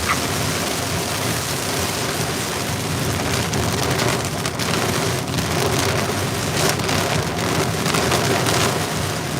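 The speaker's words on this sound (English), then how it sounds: "It is raining buckets right now. Absolute buckets." Heavy rain from a strong thunderstorm in Pennsylvania pours down steadily, a dense, loud hiss of large drops drumming on surfaces throughout, with no voices.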